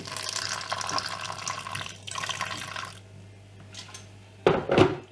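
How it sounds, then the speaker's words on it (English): Warm water poured into flour, yeast and salt for roti dough, splashing in two bursts with a softer trickle and a short louder splash near the end. "And then a little bit of warm water."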